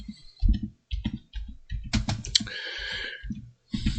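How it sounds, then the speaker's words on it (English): Rapid clicking of keys on a computer keyboard, steady bursts of typing close by with brief pauses between runs. "Guess that's me typing."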